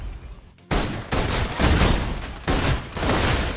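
Rapid bursts of gunfire in the video game Love and Deepspace, loud, dense suppression volleys, several successive salvos with brief gaps between them, close and aggressive.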